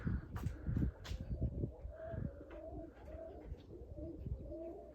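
Budapest pigeons coo repeatedly in soft, rolling calls, several birds overlapping at close range with low rustling between.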